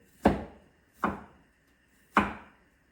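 Three crisp knife chops on a cutting board, evenly spaced and close, as ingredients are sliced for sweet and sour chicken; nothing else is heard between the strokes.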